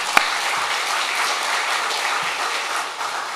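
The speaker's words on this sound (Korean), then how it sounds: "우리 존경한다고 박수하겠습니다." A church congregation applauds for elderly parents during a Korean service, steady dense clapping filling the room from start to finish, with one sharp knock near the beginning.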